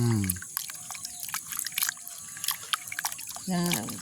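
Dried salted fish being washed in a pot of water in a village garden kitchen, with splashing, dripping and trickling close by, interrupted by brief bursts of talk at the start and end.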